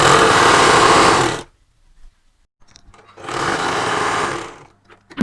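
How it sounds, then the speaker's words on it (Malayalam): A sewing machine stitches a saree blouse seam a quarter inch wide in two loud, close bursts of rapid whirring separated by a quiet pause with small handling clicks. "വെച്ചിട്ട് ഇവിടെ 1/4 ഇഞ്ച് വീതിയിൽ തയ്ച്ചെടുക്കുക"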